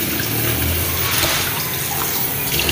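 A kitchen water tap runs steadily, a broad continuous rushing flow that stays even and fairly close throughout, with no voices over it.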